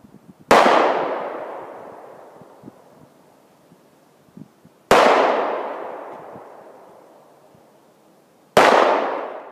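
9mm pistol rounds fired at ballistic combat gloves outdoors: three loud, sharp shots spaced several seconds apart, each followed by a long fading echo, with faint wind and rustling between them.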